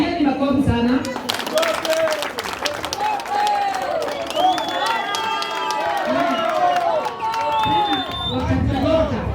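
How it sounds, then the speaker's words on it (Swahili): Crowd clapping at a rally in Kayole, a dense burst of applause and cheering mixed with shouting voices and chatter that carries on throughout. "Pigeni makofi sana."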